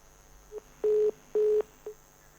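Phone line tones after a dropped telephone call: two steady beeps, each framed by short clicks, spaced evenly and fairly clear over a quiet hiss.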